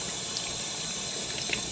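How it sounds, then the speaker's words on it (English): Cool tap water runs steadily over catfish fillets being rinsed in a sink, a continuous close splashing hiss with small clinks and no voices. "take cool water, take our catfish fillets, rinse them off real good."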